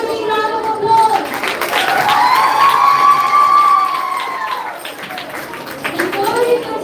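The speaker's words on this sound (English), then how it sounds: "Let us give them another big round of applause." At a Year 6 girls' transition ceremony at school, a loud, close crowd cheers. High children's voices whoop and call out over scattered clapping, swell, then dip and rise again.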